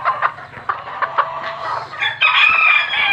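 Chickens on a small backyard plot cluck in short, close bursts, with a rooster crowing and a rising squawk near the end; loud and busy, with no talking.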